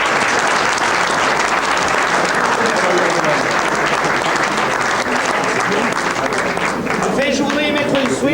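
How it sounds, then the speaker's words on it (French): A large audience at a 1990 football club event in Limoux, Toulouse against Nîmes, applauds warmly in dense, steady clapping that fills the whole stretch, with a voice and whistles coming through near the end. "Alors je vous demanderai, mesdames, messieurs, de les applaudir très chaleureusement."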